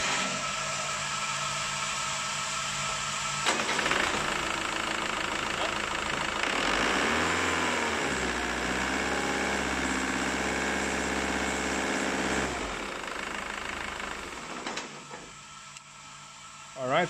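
An engine runs steadily on a water brake dyno near 2000 RPM, a sustained mechanical hum with a brief rise and fall in pitch midway, while a person talks over it.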